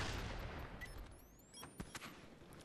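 M14 rifle fire on the Nuketown map in Call of Duty: Black Ops, a few sharp separate shots with echoing crackle, faint and distant in a noisy game mix.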